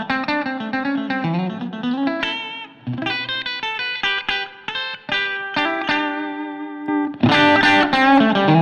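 Electric guitar through a ZT Lunchbox amplifier plays chords and single notes, each ringing out into a lush, lingering reverb tail; loud and close, without any speech.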